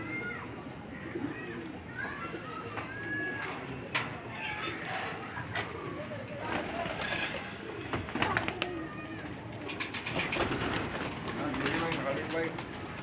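Pigeons on a rooftop coo in soft, rolling calls amid chirps and flutters, with people talking nearby over the birds throughout.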